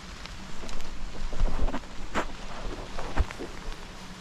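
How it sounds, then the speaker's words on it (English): Rain falls outdoors on a nature walk, a steady soft patter with scattered louder drops and light rustling close by. "It's starting to rain pretty good."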